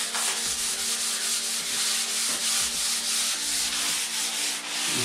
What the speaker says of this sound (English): Nice and lightly, gently rub with the grain, not across the grain.